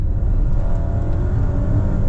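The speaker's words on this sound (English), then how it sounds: "it just turns into this nice roaring 2-litre turbo engine" A Volvo XC60 B5 with a 2-litre turbo engine accelerating at full throttle, a steady loud engine drone and rumble heard from inside the car, with no talking.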